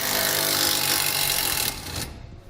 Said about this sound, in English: You're going to use a 15mm socket to remove those.